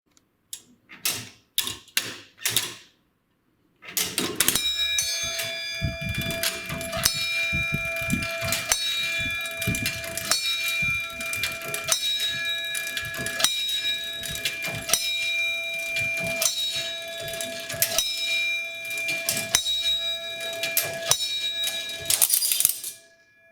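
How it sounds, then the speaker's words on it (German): A historic tower clock movement in a museum whirs and clatters steadily as its pin wheel and fly governor turn, while a bell rings out repeated ringing strikes over the mechanical noise after a few opening clicks. "Jeder Hebnagel setzt einen Glockenschlag."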